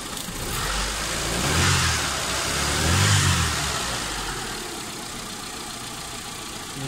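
A Mitsubishi Lancer engine runs steadily during coolant flushing and bleeding, swelling twice in low rumbling surges before settling back to a constant hum.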